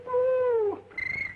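A human voice imitates forest animal calls, giving a long, loud, cat-like wail followed by a shorter, higher, warbling cry, close and alone.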